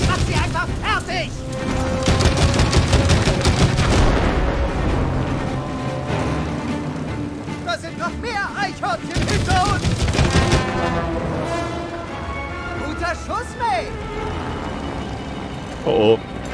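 Rapid bursts of cartoonish gunfire and booming impacts from the co-op video game It Takes Two, dense and loud throughout, with excited players talking over the action.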